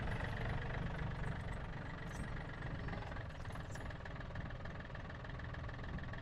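A loader engine runs steadily while tipping a bulk bag of firewood, a close, loud, low rumbling idle with faint knocking and no talking.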